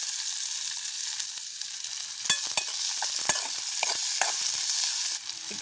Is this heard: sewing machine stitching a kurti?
no